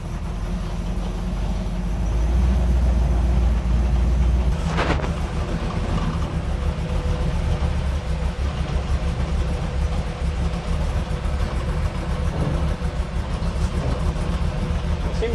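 A 1955 car's engine runs steadily as it is driven after a long hibernation, a continuous low rumble with road and drivetrain noise and a brief clunk partway through.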